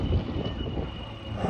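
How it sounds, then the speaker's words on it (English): Four Rolls-Royce Merlin piston engines on an aircraft at an airshow drone together in a steady, low, rumbling roar, continuous and moderately distant, with no talk over it. "4 Merlin engines in tandem, absolutely beautiful"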